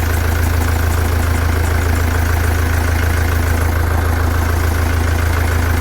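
A Vauxhall Vivaro Sport van engine idles up close after a turbo replacement, a loud, even, rumbling drone that holds steady throughout, with no talking.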